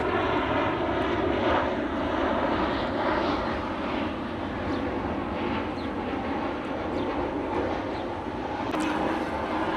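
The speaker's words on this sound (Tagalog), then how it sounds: "may parating na naman aeroplano. Medyo maingay. Kasi nga, ayan, nandiyan lang yung airport." An airplane flies overhead near an airport as a broad, loud roar that holds steady throughout, with no speech over it.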